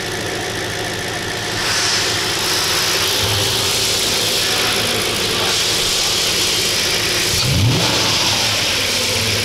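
An Audi S6 C5 with a 4.2 V8 runs steadily close by, a low rumbling engine note with a couple of brief revs swelling over the idle and no voices.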